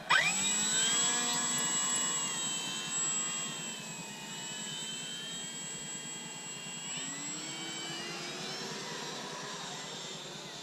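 An FMS Sbach 342 RC airplane takes off at the flying field, its electric motor whining loud and steady with shifting pitch, then easing into a softer, rising drone as the plane climbs away.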